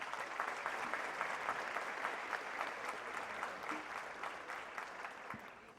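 Moderately faint, steady applause fills a solemn session hall, a continuous crowd clapping that holds evenly and tapers slightly toward the end.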